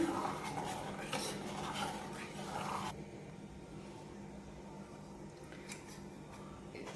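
Soaked sago being stirred into milk in a pot, a utensil scraping and clinking softly against the metal at close range for several seconds, with no talk.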